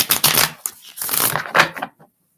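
Tarot cards being shuffled by hand, a run of crisp riffling and papery flutters in two bursts separated by a brief pause, close and fairly loud with no talking.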